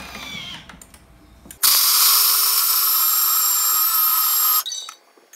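A Thermomix blends chocolate ball ingredients on speed 8, starting abruptly as a loud, harsh whirring roar that holds steady for about three seconds and then cuts off, with quiet handling noises before and after.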